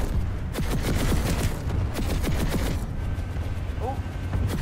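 Rapid gunfire in the online shooter PlanetSide 2, with dense bursts of shots and sharp bangs layered over one another throughout, loud and busy, with a voice talking briefly at one point.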